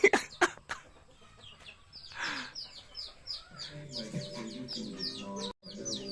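Chickens cluck and chirp in quick repeated calls, with a few sharp knocks at the start and a soft background hum.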